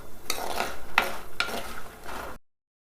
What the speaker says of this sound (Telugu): సిమ్లో ఎర్రగా వేయించాలి.